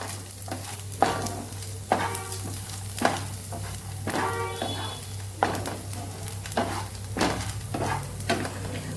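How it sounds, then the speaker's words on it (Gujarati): Onion and garlic sauté in a pan for chutney, a steady close sizzle broken by rhythmic scrapes of a spoon stirring about once a second, with no talk. "ડુંગળી થોડી સતળાઈ જાય પછી આપણે લસણ ઉમેરીને સરસ સાતળી લેવાનું"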